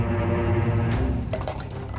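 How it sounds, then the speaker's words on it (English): Beer pours from a pitcher into a glass at a bar, foam running over. It gives a steady liquid rush with glassy clinks partway through, loud and close. "Fill that pitcher with beer."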